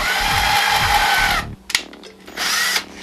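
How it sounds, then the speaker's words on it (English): A power drill pre-drilling a hole in a walnut cutting board, whining loudly for over a second, a brief pause with a knock, then another close, steady burst of drilling. "get your drill. Just pre-drill the hole a little bit."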